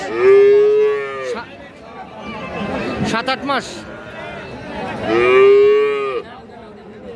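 At a busy village cattle market, Friesian and crossbred heifer calves let out two long, loud moos, one at the start and one near the end. People talk and chatter around them throughout.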